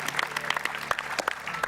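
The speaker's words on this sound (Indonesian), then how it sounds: "tepuk tangan dulu dong untuk tim yang akan bermain selanjutnya" Audience clapping for the next team to play on a comedy game show, a burst of quick, uneven claps close by, loud and dense for a short stretch.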